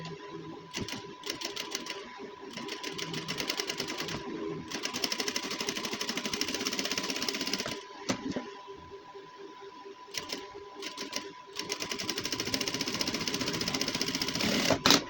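A sewing machine runs in several bursts, stitching a double seam on a gents suit, its fast mechanical rattle starting and stopping with brief pauses between runs.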